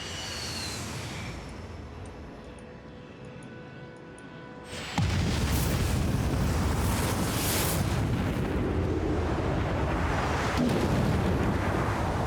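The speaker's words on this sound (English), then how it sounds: "Let's nuke Frankfurt, why not?" A nuclear strike lands on a city in the strategy game Civilization 6, a sudden deep roaring blast that breaks in after a quiet rumbling lead-in and keeps thundering loudly to the end, with no talk over it.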